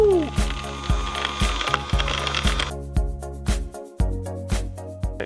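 A small solar-powered 12-volt mill grinding corn, giving regular, evenly spaced mechanical clicks and thumps like a ratchet turning, heard close alongside a faint whine.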